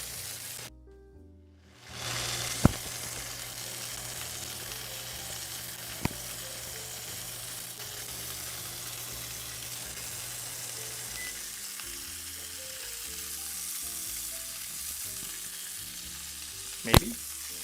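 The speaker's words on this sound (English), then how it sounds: "Give you some sizzle ASMR." Steady loud sizzling of beef searing in a hot pan for Beef Wellington, continuous crackle with a few sharp clicks and pops, no talking.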